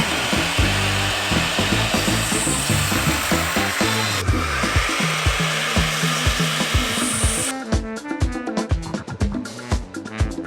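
A miter saw cuts lumber for a DIY hammock pergola build, giving a loud, continuous whirring grind that shifts character partway through, with rough, stuttering bursts near the end. No talking is heard.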